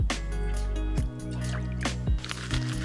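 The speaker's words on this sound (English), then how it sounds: "we're gonna add in 2 tablespoons of soy sauce" Soy sauce pours into rice vinegar for a vegan unagi sauce, giving a close, gurgling trickle with small glugs and drips over about three seconds.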